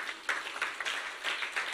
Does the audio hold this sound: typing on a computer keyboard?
no